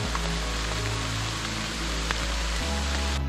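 A dense, constant roar of hail pelting a surface, loud and close, with occasional sharper impacts standing out from the steady hiss.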